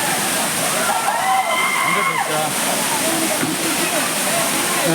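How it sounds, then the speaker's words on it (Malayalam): Churuli waterfall in a forest runs at its lower summer flow, giving a steady, dense rushing roar of falling water throughout while a person talks over it. "ഈ ചുരുളി വാട്ടർഫാൾസിൻ്റെ വേനൽക്കാലത്തെ ദൃശ്യമാണ് നമ്മളിപ്പോൾ കാണുന്നത്"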